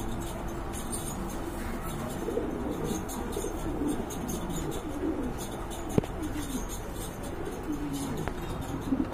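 Pigeons coo softly in a low, throaty murmur from several birds at a dealer's loft, mixed with rustling and a few faint clicks against a steady background hiss, no speech.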